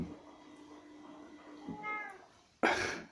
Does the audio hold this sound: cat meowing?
yes